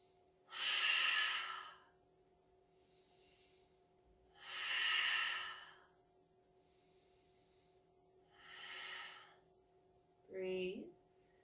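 Slow, deep yoga breaths, long drawn inhales and exhales in an even rhythm, close and soft, about five breaths with quiet pauses between.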